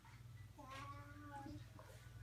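A child imitates a cat, giving one drawn-out, wavering meow of about a second, quiet and close, with a faint low hum underneath.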